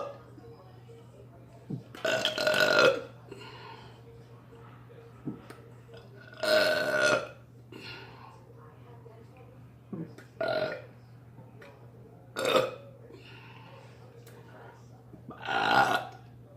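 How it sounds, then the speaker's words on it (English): A person burps loudly five times, spaced a few seconds apart, each belch a long, rough eruption close by, over a steady low hum. "but I can burp though."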